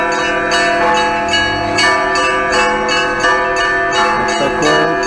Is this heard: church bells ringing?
yes